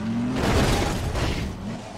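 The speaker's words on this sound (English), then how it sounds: "And this car just sounds cool." A car engine in the video game Half-Life 2 drones steadily and loudly, rising slightly in pitch mid-clip before easing off, with no talk over it.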